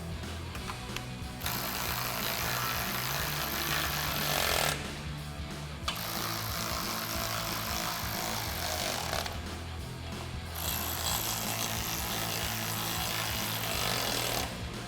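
A ratchet with a 13mm socket tightens grille guard bolts on a 2016-2023 Toyota Tacoma in three dense bursts of fast mechanical clicking, each lasting a few seconds with short pauses between, faint and close.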